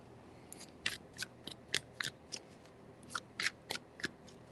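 Tarot cards are shuffled in a quick series of crisp, papery riffling snaps, bunched into irregular clusters, close and moderately quiet with no talking.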